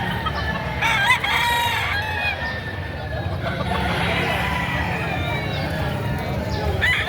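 Roosters crow and chickens cluck nearby at a livestock market in Padre Garcia, Batangas, over a background of people talking and general outdoor noise.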